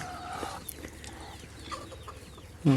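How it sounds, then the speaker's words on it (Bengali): Five brooding hens sitting on eggs in the traditional way give faint, scattered clucks over quiet background noise, ending with one louder, close burst. "আমার 5টা মুরগিকে সনাতন পদ্ধতিতে ডিমে তা বসিয়েছি বা কুচে বসিয়েছি"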